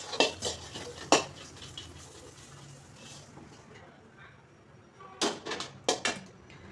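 Dried red chillies, stems pinched off, being roasted in a metal pan, with sharp clanks and scrapes of a ladle against the pan in bursts near the start and end and quieter dry rustling between.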